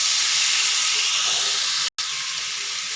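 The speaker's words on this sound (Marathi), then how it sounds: "अशा पद्धतीने आपल्याला तेलामध्ये दोडकं ना छान असं 1-2 मिनटं परतून घ्यायचं" Ridge gourd pieces sautéing in hot oil in a pan give a steady, close, loud hiss of sizzling that continues without a break except for one very short dropout.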